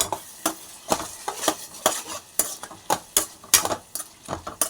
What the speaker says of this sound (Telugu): బెండకాయలు వేసి శుభ్రం కలుపుకున్నాం